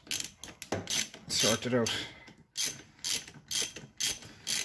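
Ratchet clicking in short bursts while removing the air dryer chamber from a compressor, close and fairly loud, with someone talking briefly between the bursts.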